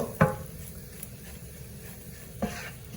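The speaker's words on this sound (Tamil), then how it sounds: "தூளை போட்டு எல்லாம் சேர்ற மாதிரி கிளறி விடுவோம்" A spoon scrapes and stirs spice powder through sautéed onions for chicken curry in a pan, two soft strokes over a faint sizzle, close and quiet.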